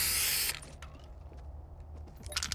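Graffiti spray-painting in Fortnite: a loud, bright aerosol hiss opens, then cuts to quiet clicks and rattles, before a second short hissing burst at the end.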